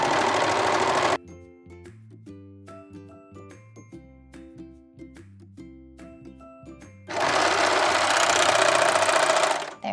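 A sewing machine stitches narrow elastic onto a thin spaghetti strap for bikini bottoms, running loud in two bursts at the start and end, with quieter clinking and tonal notes between.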